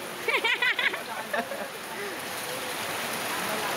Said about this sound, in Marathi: तिथे जबरदस्त पाऊस आहे